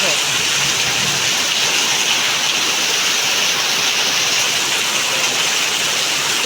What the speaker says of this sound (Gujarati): આમ જોવો તમે નકરું પાણી પડે